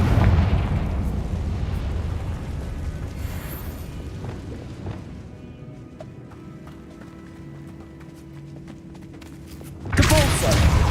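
A Confringo fire-explosion spell is cast in Hogwarts Legacy, ending in a sudden loud fiery burst. Before it, a rumbling, busy combat mix fades to a quieter stretch with a low steady tone.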